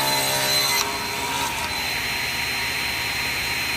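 A table saw cuts wood fed against the fence, starting with a loud whining cut that drops after a second into a steady running motor hum with blade whir, and no talking.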